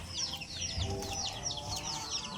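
Chickens cluck and chatter steadily in a dense, close flock at a backyard garden, a continuous overlapping murmur of short calls.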